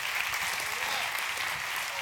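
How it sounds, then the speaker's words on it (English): Dense applause from a crowd at a Denver Startup Week stage event, steady and continuous, with voices blending into the clapping. "Let's give another round of applause, huh?"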